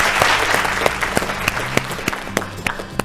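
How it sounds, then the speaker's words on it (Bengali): A studio audience at a family game show claps loudly and briskly, a dense burst of applause close by. "জোরে হাততালি সবাই।"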